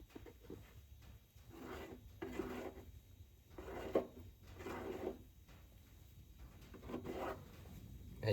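Quiet, rhythmic scraping and rubbing as body filler is mixed and spread with a spreader on a 2001 Camaro. Soft strokes repeat about once a second, close by and faint, with a few light clicks.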